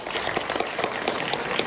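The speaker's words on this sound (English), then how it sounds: "You can clap if you want." An audience in a lecture hall claps briefly, a short patter of scattered hand claps at moderate distance without voices.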